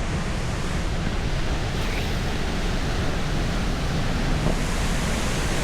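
Water from a very small, rarely flowing creek waterfall rushes in a steady broadband wash, close and continuous, with no voices.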